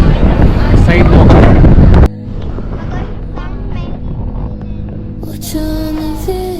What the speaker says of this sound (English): So we are en route to St. Mary's Island on the ferry, on the boat.